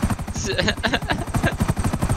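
Stolen helicopter taxiing on the ground in a video game, its rotor chopping in a rapid, steady pulse, loud and close throughout.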